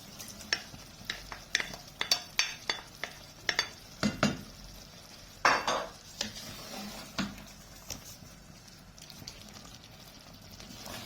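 A spoon stirs tuna through a simmering sauce in a cooking pot, giving a run of close metallic clinks and scrapes that thin out, under a faint sizzle.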